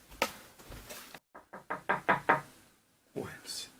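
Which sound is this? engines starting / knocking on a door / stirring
knocking on a door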